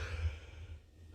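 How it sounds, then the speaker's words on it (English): A late-night yawn, a single long breathy exhale that trails off and fades quietly over about a second, close to the microphone with no words. "I gotta yawn."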